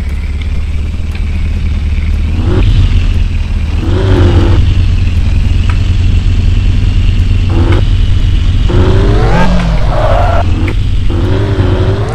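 A car driven in the video game Car for Sale gives a loud, steady engine drone with revving swells and clattering bumps that runs unbroken through the whole stretch and stands alone with no talk.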